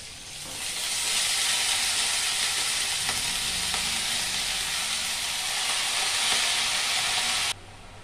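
Potatoes with turmeric and salt fry in a pan as chopped cabbage goes in, giving a steady, fairly loud sizzle with a few faint clicks of stirring, fading slightly at the end.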